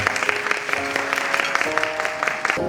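Guests at a rainy outdoor wedding clap together in a lively, continuous round of applause, with faint musical tones running beneath and a final accented clap at the end.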